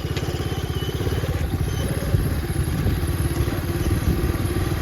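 A Honda Dax–style Ice Bear 125cc clone motorcycle runs close by with a steady, low, rapid single-cylinder putter and some rattling and clatter, holding a constant loud drone throughout.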